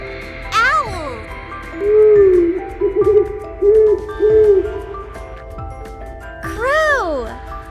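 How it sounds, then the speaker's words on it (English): An owl gives a steady run of low, soft hoots in the middle, framed by brighter sweeping calls at the start and end over a faint musical backing. "Owl."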